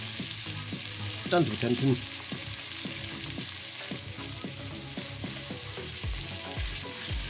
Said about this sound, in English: we just want to brown all sides and the ends